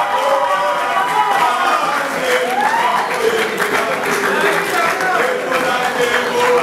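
Audience applause greeting the winners of a university moot court competition final, a dense, sustained wash of clapping and crowd noise lasting throughout, with voices mixed in.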